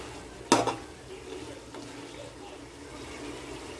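A single sharp clatter of a utensil against a pot, then soft faint scraping and stirring sounds fading into quiet background, while biryani is mixed in a pot.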